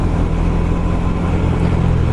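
A KTM 390 Super Duke motorcycle engine running at about 80 mph on a motorway, a steady, loud, buzzy drone with heavy wind rush and no pauses over a couple of seconds.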